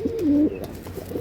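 A pure-bred pigeon pair offered for sale gives a low, throaty coo, one drawn-out rolling call followed by softer murmurs nearby.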